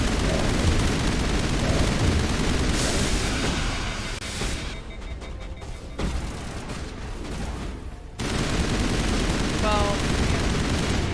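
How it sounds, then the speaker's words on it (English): Assault rifle gunfire in the Mass Effect game comes as loud, rapid bursts with booming impacts, broken by a quieter muffled stretch before the shooting resumes, with some talking mixed in. "I have an assault rifle."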